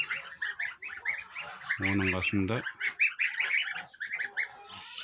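Kholmogory goose goslings a few days old give a dense run of high peeping calls, broken by one loud adult goose honk in the middle, while a person speaks briefly nearby.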